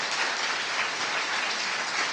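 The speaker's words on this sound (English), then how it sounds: "Please give Dexter applause." An audience at a lecture on exercise as medicine claps for a physical therapist, giving a steady, even wash of applause that stays at a moderate level throughout, with no voices above it.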